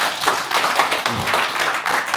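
Members at a regular general meeting clap in approval, a short burst of scattered hand claps close by, fairly loud and irregular, lasting a couple of seconds.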